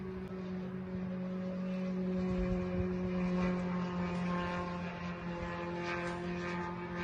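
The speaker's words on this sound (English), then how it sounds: "We hear the drone flying over." A Ukrainian attack drone flies overhead with a steady, droning propeller hum, holding loud and even for the whole stretch with no voices.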